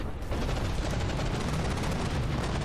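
Rapid cram cannon fire from a battle in the video game From the Depths forms a dense, continuous barrage of booming shots, loud and sustained with no talk over it.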